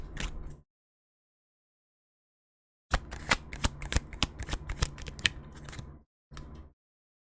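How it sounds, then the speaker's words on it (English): Tarot cards are shuffled close up in quiet bursts: a short riffle, a pause, then a longer run of crisp rapid flicks and snaps, followed by one more brief riffle. "Let's get another card here for your emotions."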